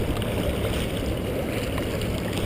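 Kenduskeag Stream rushes near the falls in April at high water with strong currents, a loud, dense, continuous roar of churning water up close, with no talking.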